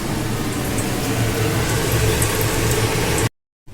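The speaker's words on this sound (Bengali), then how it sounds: "এইভাবে আমি সবকটা স্যান্ডউইচ ভেজে রেডি করে নিচ্ছি" Sandwiches deep-frying in hot oil give a steady, dense bubbling hiss that stays close and fairly loud for about three seconds. The sound then cuts to silence, with no one talking.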